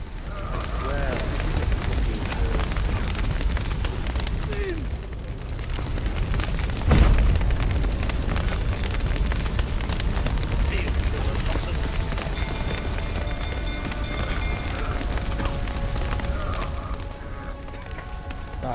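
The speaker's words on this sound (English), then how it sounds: "Shit, fire's spreading." Fire spreading through a castle in The Witcher 3, a steady dense roar and crackle with low rumbling and a sharp burst partway through, continuous and loud, with a voice speaking over it.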